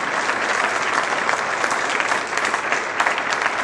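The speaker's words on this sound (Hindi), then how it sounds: "जोरदार तालियों से खुदा के नाम को" A church congregation at a Friday service breaks into loud, sustained applause, a dense wash of clapping hands that holds steady from start to finish.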